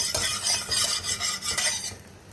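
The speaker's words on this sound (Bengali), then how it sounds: "তো ঘিটা দিয়ে একটু নাড়াচাড়া করব।" Ghee being stirred in a pot over low heat, a few quick utensil scrapes and clinks over a soft sizzle, close and brief, with no talking.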